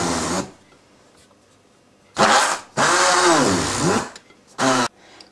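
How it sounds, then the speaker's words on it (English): An electric blender or mixer blends butter into dry ingredients for a traditional English fruit cake, running in loud, whirring bursts that start and stop, with short quiet gaps between them. "use a blender or a mixer to mix it to very fine breadcrumb-like consistency"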